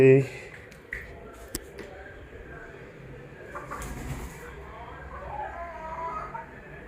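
A rooster clucks and squawks close by amid rustling and handling noises, with voices in the background.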